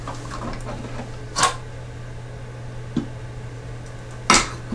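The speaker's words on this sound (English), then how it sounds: "This is how this lid comes off." An Instant Pot pressure cooker lid is twisted off, giving a few sharp, well-spaced plastic clicks over a steady low hum.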